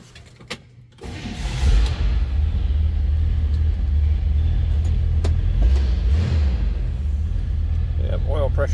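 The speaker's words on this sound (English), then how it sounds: "That was a cold start." A 1957 Chevrolet Bel Air two-door hardtop cold-starts, cranking and firing up, then settles into a loud, steady, rumbling idle that holds throughout, recorded close by.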